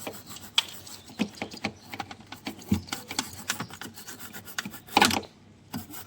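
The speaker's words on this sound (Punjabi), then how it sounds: "ਹੁਣ ਆਪਾਂ ਇਸ ਤਰੀਕੇ ਨਾਲ ਬੁਰਸ਼ ਨਾਲ ਇਹਨੂੰ ਸਾਫ਼ ਕਰ ਲਾਂਗੇ" A brush scrubs the inside of a dirty fridge after a baking powder spray, a series of close, scratchy rubbing strokes in an uneven rhythm.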